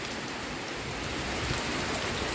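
Steady rain falls across an outdoor garden area near a water gutter and sweet leaf plants, a dense even hiss that fills the whole stretch without pause.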